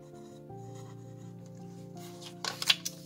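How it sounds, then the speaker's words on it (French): A few quick scratchy pen strokes marking the back of paper near the end, short and close, after a stretch of quiet background hum. "alors je le marque derrière"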